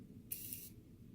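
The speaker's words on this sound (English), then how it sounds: "I'm going to use the Morphe setting spray." Morphe setting spray mists out in one steady hiss lasting roughly half a second, close and clear over a quiet low room hum.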